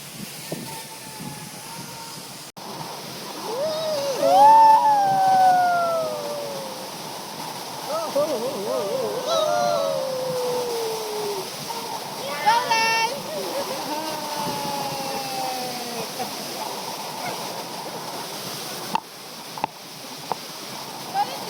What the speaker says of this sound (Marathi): फर्स्ट टाइम एवढा मोठा धबधबा बघितलाय जवळून